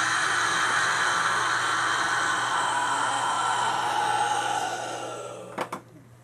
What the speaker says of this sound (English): what I have right now is a heavy metal scream